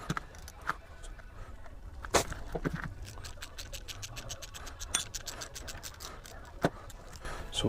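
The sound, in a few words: loosening nut and bolt of motorcycle brake lever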